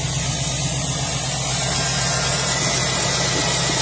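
A 1982 Jeep CJ7 engine idling steadily, a loud, close, continuous rumble with an even low throb and no talking.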